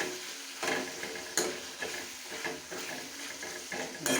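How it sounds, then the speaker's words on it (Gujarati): Tomatoes stirred in a frying pan: a steady sizzle and crackle with several louder scraping stirs at irregular intervals, close and alone without talk. "હવે થોડા એને હલાવી લઈશું મિક્સ કરી દઈશું"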